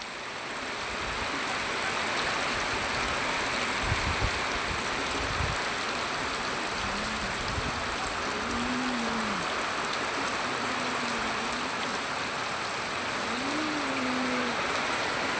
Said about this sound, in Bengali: ভালো বৃষ্টি হচ্ছে